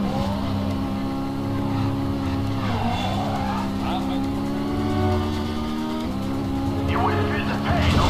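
Car spinning out and skidding in Midnight Club 2, a loud engine drone with pitch swoops and squealing tires, ending in a fresh skid, with someone talking over it.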